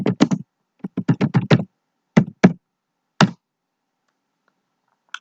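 Typing on a computer keyboard in Microsoft Word: short bursts of crisp key taps in quick runs, then a few isolated presses, close and clear with no talk.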